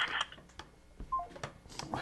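Telephone keypad tones sound as a few short beeps, mixed with faint background talk and shuffling in a studio show setting.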